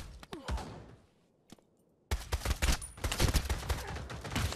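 Light machine gun fire in the VR shooter Pavlov VR comes as sharp, rapid bursts of shots, a few opening cracks, a brief lull, then a dense sustained volley of loud reports.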